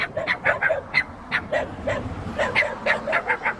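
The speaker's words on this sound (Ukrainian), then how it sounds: "Тут ще куча собак понабігала." Several dogs bark and yip in quick bursts, mixed with whiny whimpers, fairly close by, with no talking.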